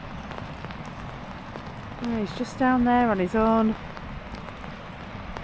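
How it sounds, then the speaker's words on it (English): Rain patters steadily on a surface as a constant light hiss, while a voice speaks briefly over it partway through. "can't believe it's just starting to rain"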